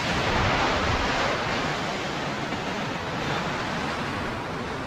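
A forest waterfall on a trek near Tenkasi gives a steady, loud, broadband rushing roar that fills the whole stretch without a break.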